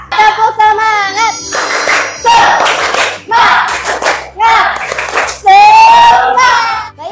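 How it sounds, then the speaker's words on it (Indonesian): Children in an Indonesian primary-school language class do a 'tepuk semangat' clapping chant, with chanted young voices and bursts of rhythmic hand claps running together throughout. "kita tepuk semangat dulu ya. Tepuk semangat."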